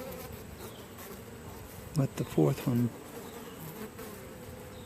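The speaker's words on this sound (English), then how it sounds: "Alright, these bees came from that hive." Honey bees hum steadily throughout a midsummer hive inspection, a close, continuous buzz heard alone apart from a short burst of speech in the middle.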